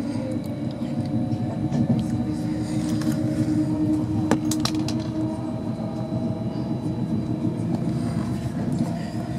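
A steady rumble of train 390130 speeding up between Liverpool and Stafford, a continuous drone along the rails with occasional faint clicks and knocks, no voices.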